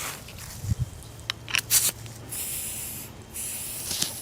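A spray gun fed by an air compressor at about 35 psi applies POR15 coating to a 6.0 Powerstroke diesel engine, giving several short hissing bursts with brief gaps and a steady faint hiss.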